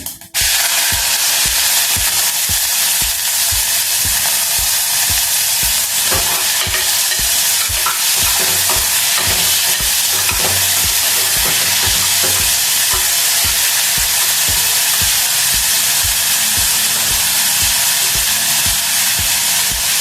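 Onion frying in a pan with garam masala for a green peas kurma, a loud continuous sizzle with steady rhythmic stirring scrapes throughout and no voices.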